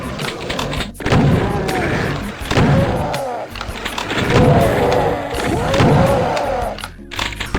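The Super Shotgun firing in the video game Doom: a series of heavy, booming blasts, each followed by a mechanical reload clatter, repeating roughly every second or so at close range.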